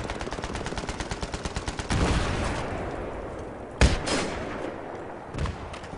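Gunfire in the Battlefield 3 multiplayer map Damavand Peak: a rapid automatic burst of shots, then a heavier sustained roar and a sharp loud blast, all close and dense with no talking.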